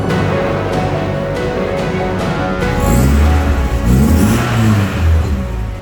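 A 1965 Alfa Romeo Giulia engine revs up loud and close, running steadily before rising into a stronger, throatier surge in the second half, with no talking.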